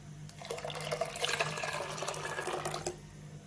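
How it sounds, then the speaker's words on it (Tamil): Grape juice pours in a steady splashing stream into a pot for about three seconds, close and clear, then stops. "இது கூடவே நம்ம கிரேப் ஜூஸையும் சேர்த்துக்கலாம்."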